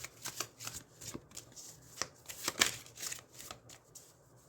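Lost Tarot of Nostradamus tarot cards being shuffled by hand: a soft, quick rhythmic riffle of slippery card stock in repeated short strokes, close and quiet, with no talking.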